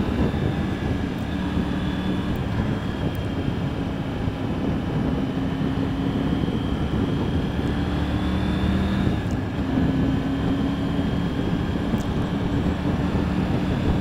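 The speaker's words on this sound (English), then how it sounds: "This bike really sounds quite different from the 1050 I had." A Triumph Tiger 900 motorcycle engine drones steadily while riding on open roads in Luxembourg, a constant loud hum blended with rushing wind noise and no clear gear changes.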